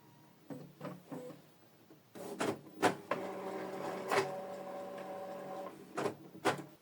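An Epson EcoTank L3280 printer initializing, giving a run of mechanical clicks and clunks followed by whirring motor passes that rise and fall, ending in a few more close, distinct knocks; quiet overall with no talking.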